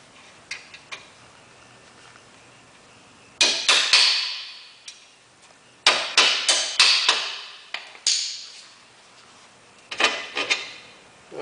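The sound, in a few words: hammer tapping a bolt out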